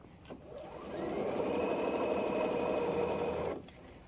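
A sewing machine stitching a girls' jumper runs at speed for about three seconds, a close steady whirring hum with rapid needle chatter that rises after a brief start and stops abruptly.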